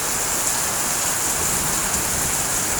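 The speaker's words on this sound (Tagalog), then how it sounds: "kaya pala madilim bubuhos ang napakalakas na ulan na ito" Heavy rain pours down on a street at dark midday, a loud, dense, unbroken hiss of falling water with no voices.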